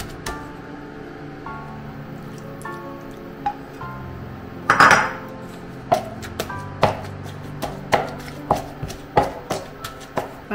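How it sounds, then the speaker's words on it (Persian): Meat for eggplant haleem is pounded in a kitchen, a bright clinking clatter at first, then a steady run of sharp, loud knocks at roughly even intervals. "گوشت و حسابی میکوبیمش."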